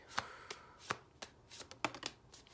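Tarot cards are shuffled by hand in a quiet room, with soft, irregular riffles and taps coming in uneven bursts, close and fairly faint.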